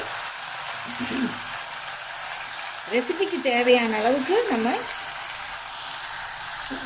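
Two finely chopped tomatoes sizzle and fry in a pan while being sautéed, a steady crackling hiss running throughout, with someone speaking over it in the middle stretch.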